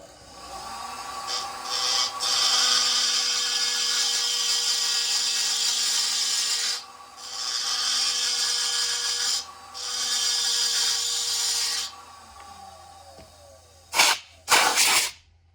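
Repeated rasping strokes of a file port-matching an MS462 chainsaw cylinder, arriving in several long bursts with short pauses, ending in a few quick scrapes.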